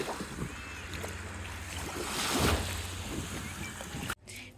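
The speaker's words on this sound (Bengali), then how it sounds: "শোন শোন শব্দ সমুদ্রের।" Sea waves wash and roar nearby on a beach on the Isle of Wight, with wind buffeting the microphone, swelling to a louder surge midway before cutting off.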